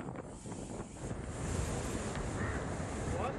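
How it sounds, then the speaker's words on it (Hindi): Strong sea winds and crashing surf at Digha on the coast during Cyclone Yaas, a steady roar of wind and waves with buffeting microphone wind noise, continuous and loud throughout with no talk. "तेज बारिश के साथ समुद्री हवाओं के साथ जो लहरें आई हैं"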